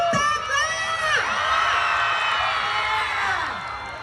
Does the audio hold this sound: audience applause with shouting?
yes